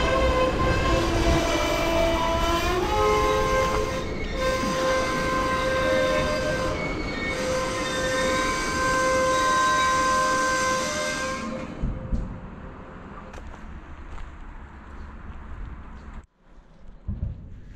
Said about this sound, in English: Okay, train's coming to a stop.